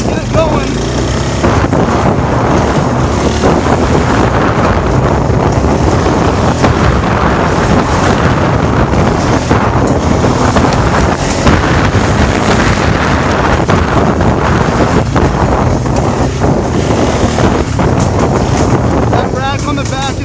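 A Suzuki 500 quad ATV engine pulls hard in third gear: a loud, continuous roar heavily buffeted by wind rushing over the microphone, steady for the whole stretch.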